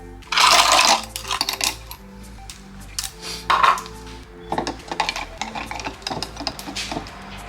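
Several bursts of hard clinking and rattling as ice cubes drop into a container for matcha tea, loud at first, then scattered smaller clatters.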